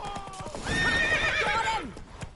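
Roach, a horse in The Witcher 3, lets out a loud, close whinny lasting about a second, surrounded by hoof clip-clops and game sounds.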